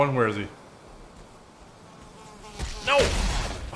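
A mosquito enemy in the survival game Valheim buzzes, a nasal whining drone that rises up close at the start and again near the end, separated by a quieter stretch.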